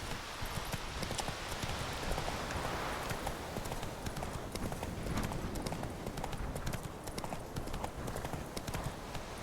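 Hooves clip-clop in a fast, continuous galloping rhythm as a horse runs in the video game Witcher 3, loud and steady throughout.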